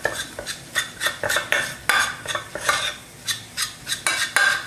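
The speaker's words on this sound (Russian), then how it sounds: "Делается это именно железной ложкой" A metal spoon scrapes and clinks rhythmically against a pan, steady repeated strokes of stirring flour close up.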